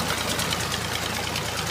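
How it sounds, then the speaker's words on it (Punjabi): A tractor engine drives a tubewell pump on a Punjab farm, a steady close rumbling chug with a fast, even knocking rhythm and no talk. "ਅਤੇ ਟਰੈਕਟਰ ਮੇਰਾ ਚੜਿਆ ਟਿਊਬਵੈੱਲ 'ਤੇ"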